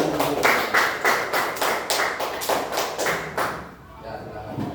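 Pupils clap together in a classroom, a rhythmic series of about ten loud hand-clap bursts close by, fading out near the end with some voices in the background.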